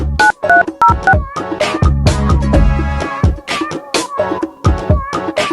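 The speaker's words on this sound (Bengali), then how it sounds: "আচ্ছা ফোন দেই।" A telephone dials a call with a quick series of short, bright keypad beeps at the start, followed by louder tonal sounds and clatter.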